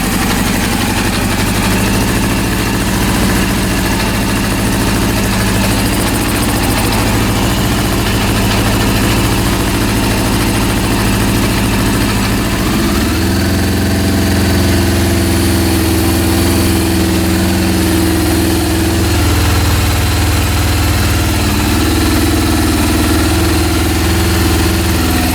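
A rebuilt Honda CB400 motorcycle engine idles steadily and loudly at close range, a continuous droning run whose low hum shifts slightly partway through.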